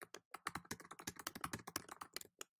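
Rapid, uneven clatter of keys being typed on a computer keyboard, close and fairly quiet, in short bursts with tiny pauses and no speech.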